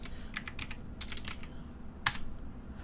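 Keys on a computer keyboard tap in short clustered bursts, with pauses between them and one louder keystroke near the end, heard close in a quiet room.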